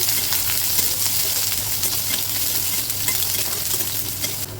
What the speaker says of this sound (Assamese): চয়াবিনখিনি অলপ লাল হোৱালৈ ভাজিব লাগিব।